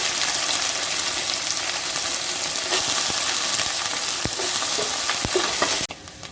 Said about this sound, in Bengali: নারকেল কুচোনোটাকে হালকা করে ভেজে নিয়েছি